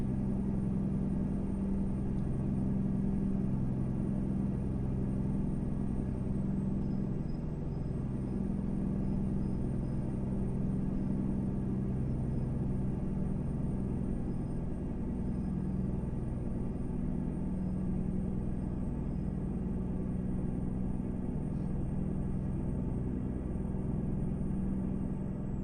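Steady low engine rumble heard from inside a truck cab in American Truck Simulator on a Mexico map, a constant droning hum with no talking throughout.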